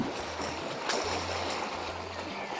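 River water flows and laps near a riverside village where children are bathing and swimming, a faint steady wash with a small splash and low engine-like hum underneath.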